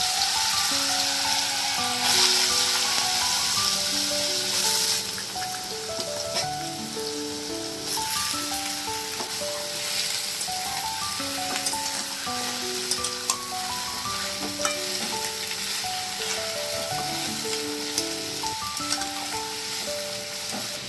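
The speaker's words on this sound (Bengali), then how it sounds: "আমিও আলু ভাজা বানিয়ে দিচ্ছি" Potatoes fry in a wok over a gas burner for Bengali aloo bhaja, giving a steady broadband sizzle throughout that sits under louder background music.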